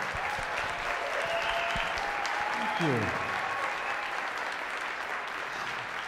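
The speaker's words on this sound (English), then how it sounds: "Can we give Mr. Benton another round of applause?" An audience at an elementary and high school band and chorus winter concert applauds for a teacher, a soft, even wash of clapping throughout, with a brief spoken thanks and a faint tonal sweep midway.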